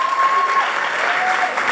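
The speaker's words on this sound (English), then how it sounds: "Just give them applause," Children and adults at a spiritual retreat applaud the organizing team, a loud, dense burst of clapping that fills the short moment, with a faint tonal whistle or feedback line running underneath.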